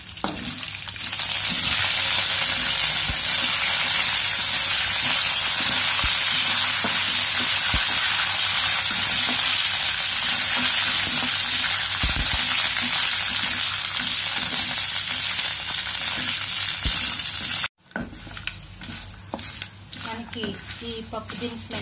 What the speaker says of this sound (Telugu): ఇవి వేగిన తర్వాత వీటికి ఎండుమిర్చి ముక్కలు అలాగే కరివేపాకు వేసుకొని కాసేపు వేయించుకోవాలి.